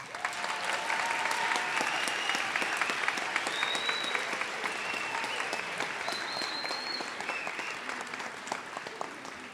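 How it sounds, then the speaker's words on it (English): Sustained applause from a white coat ceremony audience for nursing students, many hands clapping in a thick, even roar that lasts close to ten seconds and eases slightly toward the end, with faint cheers mixed in. "Let's have one more round of applause for our students."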